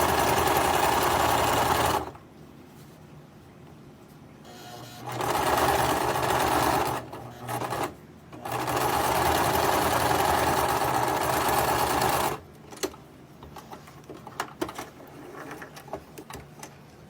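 A sewing machine stitches a fabric face mask in three loud bursts of steady running, separated by short pauses with small handling clatter, then quieter intermittent taps near the end.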